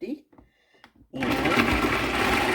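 Flex+ food processor motor switched on after a few words of speech, starting abruptly into a steady, loud whirring drone that continues to the end.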